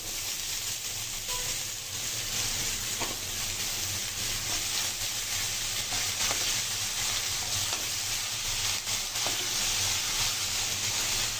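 Vegetable bhaji tipped into a hot pan and frying, a steady close sizzle with occasional scraping and stirring clicks throughout, no talking.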